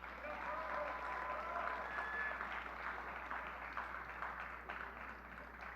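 A crowd at a youth harmony festival gives a sustained round of applause, dense steady clapping at moderate volume throughout, with no speech over it.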